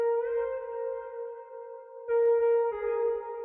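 The synth lead from the drop of The Chainsmokers' "Closer," now run through Guitar Rig effects, holds steady sustained notes with a slight echo and a couple of pitch changes, loud and alone.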